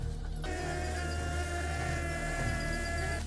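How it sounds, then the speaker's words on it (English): Steady, close buzzing of bees from a wild hive in a tree, a dense continuous hum that begins after a brief pause and carries on without a break, with no voices. "to find and bring home an entire wild hive"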